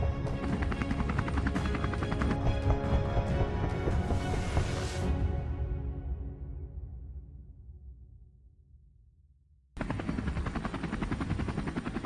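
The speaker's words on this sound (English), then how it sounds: "Amidst the noise of the propellers, we kept firing" Helicopter rotors chop loudly and steadily during an aerial wild boar hunt, then die away into near silence before the heavy thumping returns abruptly at full strength.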